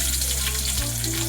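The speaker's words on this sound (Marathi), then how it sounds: "आता मी याच्यामध्ये लसूण घालते फोडणीला।" Garlic hits hot oil for a Konkani-style tempering, giving a dense, loud, close sizzle that runs steadily throughout.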